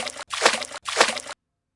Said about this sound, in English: They dove into the water and found him lying at the bottom of the pond.